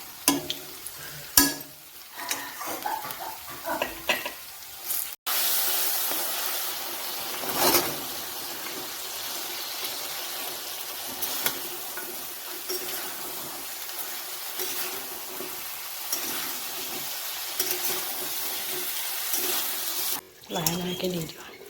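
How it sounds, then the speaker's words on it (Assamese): Spices and potatoes frying in a pan for a banana flower curry with mustard give a steady, close hiss of sizzling, with clattering stirring near the start and the end. "মছলাখিনি আলুখিনি ভাজি হওক"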